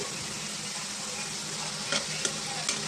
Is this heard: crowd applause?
no